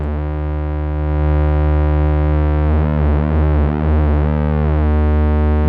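A steady, buzzy square-wave drone from VCO1 of a Behringer 2600 synthesizer holds one pitch while its pulse width is swept, the timbre wavering and phasing audibly midway, loud and alone.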